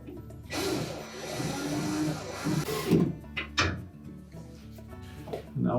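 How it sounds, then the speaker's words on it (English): Screws being driven into the bottom of a Frigidaire refrigerator during a light socket repair, a loud whirring burst of about two and a half seconds followed by several short scraping and clattering knocks, close by. "Now next we'll install the 2 retaining screws at the bottom."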